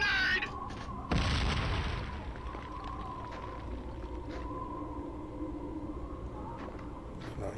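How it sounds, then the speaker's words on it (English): Grenade explosion in the Killzone video game, a single deep boom that swells and rolls off into a lingering rumble, with shouted voices briefly before it and battle ambience continuing under it. "Scatter! Grenade!"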